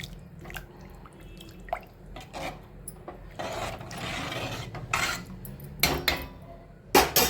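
A spoon stirs tamarind juice into a bitter gourd curry in a pan, with soft scraping and occasional sharp clinks of utensil on metal, scattered and fairly quiet.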